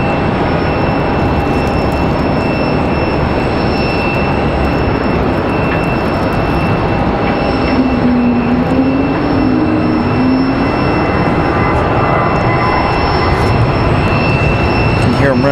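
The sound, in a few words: airliner taking off, rolling down the runway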